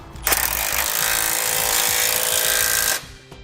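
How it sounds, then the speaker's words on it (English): A power socket tool rattles in one continuous burst of nearly three seconds while tightening 19mm bolts on a Roadmaster crossbar-style tow base plate fitted to a 2018 vehicle; the burst is loud and close, with a brief quieter tail. "Now we can go back and tighten down all of our hardware. We'll use a 19mm socket for the bolts"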